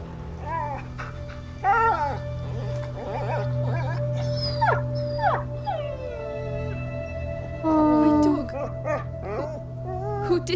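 In the video game A Plague Tale: Innocence, a dog howls, whimpers and yips in repeated rising and falling cries over a steady low hum, fairly close and loud, with a voice briefly heard.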